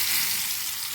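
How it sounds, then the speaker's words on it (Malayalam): Mango pieces fry in hot oil with a steady, dense sizzle, close and continuous, no voices. "എണ്ണ നല്ലതുപോലെ തിളച്ചു. ഇനി ഇതിൽ ഒരു കുറേശ്ശെയായിട്ട് ഇതൊന്ന് വറുത്തെടുക്കുക"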